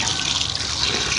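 Water pours steadily over washed rice to soak it, a close, continuous splashing and gushing of liquid with no pauses across the short stretch.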